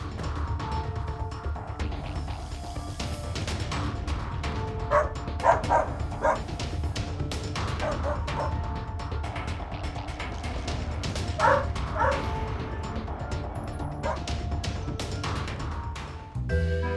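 A small dog yaps and barks repeatedly at burglars breaking into a house, sharp close barks in irregular bursts over a steady background hum.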